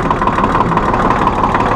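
A 1998 New Holland Boomer 1925 compact tractor's 34 hp engine idles close by with a steady, rapid chugging rumble, loud and continuous.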